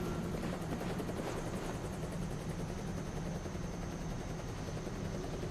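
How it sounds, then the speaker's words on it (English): A helicopter's rotor in the video game The Bureau: XCOM Declassified beats in a steady, fast rhythmic thrum, continuous and fairly close, with no talking. "Amazing little helicopter"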